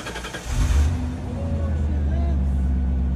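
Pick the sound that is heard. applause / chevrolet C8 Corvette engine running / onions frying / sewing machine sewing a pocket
chevrolet C8 Corvette engine running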